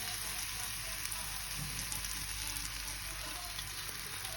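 Garlic, onion and celery sauté with a splash of vinegar in a pan, giving a steady, quiet, even sizzle throughout with no talking.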